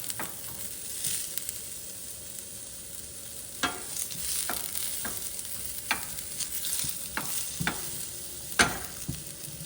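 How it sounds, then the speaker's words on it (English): Diced onions sauteing in a pan until soft for chicken pot pie, a steady low sizzle broken by sharp, intermittent clacks of a utensil stirring against the pan, close and alone. "And we're going to saute them until they are soft."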